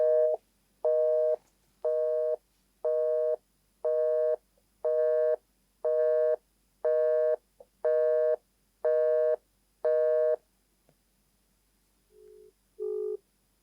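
A phone line gives ten evenly spaced beeps, each about half a second long, as a call is being connected. After them come a short pause and a couple of fainter, quicker tones, all clear and close.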